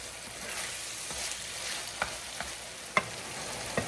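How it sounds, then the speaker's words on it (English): Minced chicken frying in a pan while being stirred, a steady close sizzle with occasional scraping clicks and small pops from the utensil, no voices. "I'm gonna start to stir it so the other side can cook as well."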